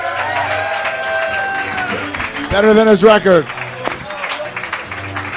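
A comedy-club audience at a roast battle applauds and cheers for a challenger being introduced, a loud burst of clapping and whoops swelling midway, with voices talking over and around it.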